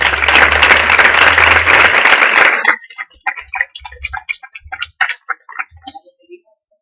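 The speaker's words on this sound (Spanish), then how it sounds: "Le damos un aplauso a los colegas." An audience at a school panel event applauds students with loud, dense clapping that stops abruptly after about two and a half seconds. Scattered faint clicks and small knocks follow in a quieter room.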